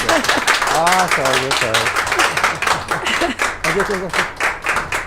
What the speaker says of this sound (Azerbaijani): Xanımı alqışlayın, xahiş edirəm.